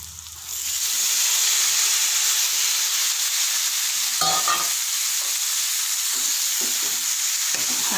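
Tomato pieces with onions sizzle and fry steadily in a pan, a continuous loud hiss broken by a few brief stirring scrapes.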